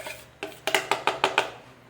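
A utensil scraping tapioca starch (polvilho doce) from a measuring cup in a kitchen, about seven quick, evenly spaced clinking scrapes, close and clear with no talk.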